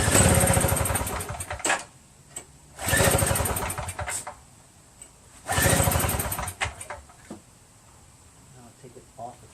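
Tecumseh 5HP engine on a Yardman single-stage snowblower with a repaired carburetor, pull-started three times on choke, each loud close sputtering run lasting about a second before dying, with brief talk between attempts.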